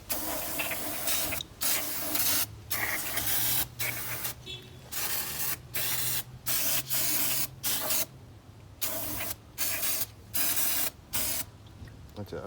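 Air or spray blasts cleaning dust off the engine of a 2011 Audi A8 4.2 during a valve cover gasket job, loud hissing bursts repeating in an irregular on-off rhythm, close up.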